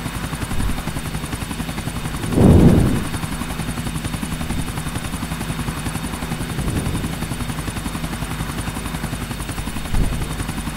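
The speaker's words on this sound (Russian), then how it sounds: "Но я очень не люблю садиться на вертолете." Steady helicopter rotor drone in Grand Theft Auto IV hums throughout with a constant rhythmic chop, swelling briefly louder a few times, no talking.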